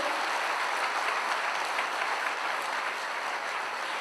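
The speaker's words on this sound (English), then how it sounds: "Dr. Lim Seo Jin requires a standing applause" Sustained applause from an audience asked to give Dr. Lim Seo Jin a standing ovation, a dense, steady wash of clapping that holds evenly loud for the whole stretch with no speech over it.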